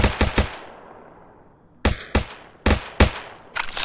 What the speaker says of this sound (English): Oh, I heard gunshots.